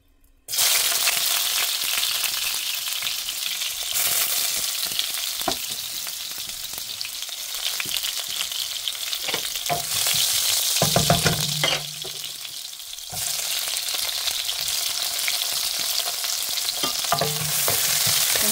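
Pancit bihon rice noodles frying in a pan, a loud continuous sizzle with intermittent stirring scrapes and clatters, close up and steady throughout.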